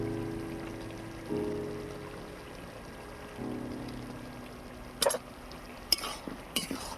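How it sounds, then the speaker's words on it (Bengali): A spoon stirs banana flower curry with chana dal, spinach, ghee and ground cumin, coriander and chili in a pan: a quiet low background, then a few sharp scraping clatters of utensil against pan near the end. "এবারে সব কিছু নেড়ে চেড়ে মিশিয়ে নেব।"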